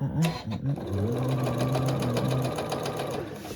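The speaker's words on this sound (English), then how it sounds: "let's put that seam back in" A sewing machine stitches a seam on a quilted poinsettia table runner, a close, steady mechanical whir that runs for about three seconds after a brief start-up.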